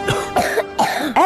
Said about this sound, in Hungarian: Először a hurutos köhögés győz le.